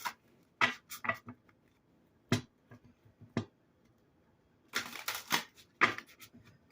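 Tarot cards shuffled by hand in short bursts of crisp riffling and tapping, close and moderately quiet, with pauses between the bursts.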